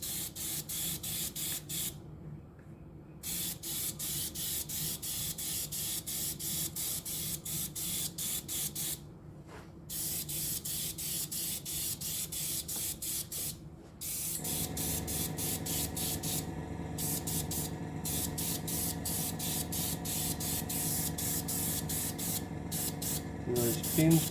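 Varnish is sprayed onto a model of the Russian Navy Project 955 Dolgoruky submarine in repeated hissing aerosol bursts, close and loud, broken by a few short pauses, with the spray's tone shifting partway through.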